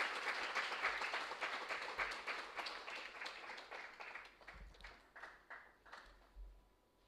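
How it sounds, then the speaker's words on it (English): An audience at a corporate event honouring a women's hockey team bursts into applause, a dense round of clapping that gradually thins into scattered claps as it fades, with no speech. "let's give this Power Pack team a huge round of applause"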